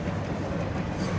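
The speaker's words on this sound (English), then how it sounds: "How come we know the train's coming?" A train approaches in an episode of the anime Fullmetal Alchemist: Brotherhood, heard as a dense, steady rumble of rolling rail noise that fills the whole moment without pause.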